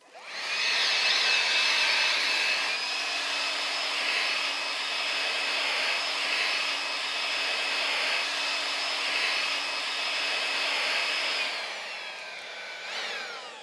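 A Makita 36 volt battery-powered blower runs with a steady, loud airy whoosh and a thin motor whine for about eleven seconds, then winds down and stops near the end.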